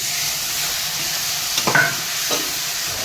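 Crab pieces and curry spice paste fry in a pan, giving a steady close sizzle with a couple of brief stirring scrapes midway, and no talking.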